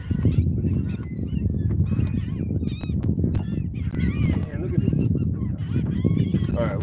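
A large flock of birds honks and cackles over Lake Pontchartrain during a fishing trip, dense overlapping calls close and loud throughout, with boat engine rumble and wind underneath.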